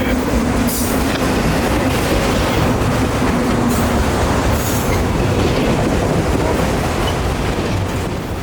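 A Norfolk Southern freight train rolls steadily past at close range, its loud continuous wheel rumble and rail noise filling the scene, with faint squeals rising now and then above the roar.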